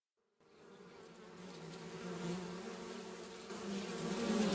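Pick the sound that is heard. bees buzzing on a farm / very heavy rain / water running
bees buzzing on a farm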